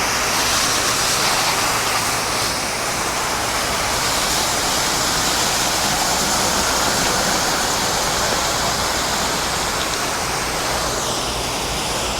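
A pressure washer rinses the siding of a house in a steady, loud, unbroken hiss of spraying water that continues for the whole stretch without pause.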